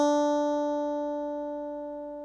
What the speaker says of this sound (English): it will play a C that slides up to the D.